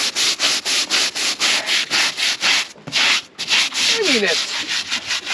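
Rhythmic back-and-forth scrubbing of barnacles off the hull of a Stryker PRO 420 boat, close and loud, with steady repeated strokes and one brief pause partway through.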